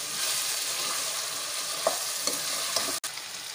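Chicken with coriander powder and garam masala fries in a pan while being stirred, giving a steady close sizzle with a few scraping knocks of the spoon.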